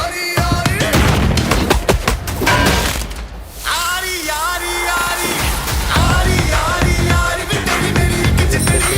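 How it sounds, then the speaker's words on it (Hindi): Dense gunfire and heavy rocket-launcher blasts from an action film trailer come in loud, rapid bursts and booms over a pounding musical score, with voices breaking through at moments. "कई मकामात पर फायरिंग और रॉकेट लॉन्चर के धमाके साफ सुनाई दिए जा रहे हैं।"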